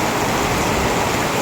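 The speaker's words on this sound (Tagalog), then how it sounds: "naabutan kami ng napakalakas ng ulan sa daan" Very heavy rain pouring onto a road, a dense, steady hiss of downpour with no gaps, loud and close.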